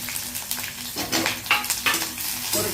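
Cinnamon, cloves, stone flower, bay leaf, ginger, garlic and green chillies fry in hot oil for coconut milk rice, a close, busy sizzle broken by repeated spoon-stirring scrapes, no voices.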